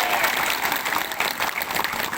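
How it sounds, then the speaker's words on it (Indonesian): A crowd at an Indonesian political volunteer gathering applauds steadily and loudly throughout, a dense wash of clapping from many hands. "Tepuk tangan."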